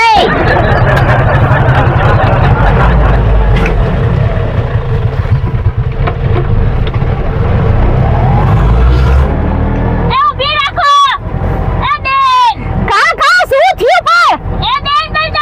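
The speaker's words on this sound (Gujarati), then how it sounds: "અરે બેન રિક્ષા ચાલુ તો કરું કે નહીં?" An auto rickshaw engine idles and runs at a steady low rumble for about ten seconds, with voices talking over it throughout and speech taking over near the end.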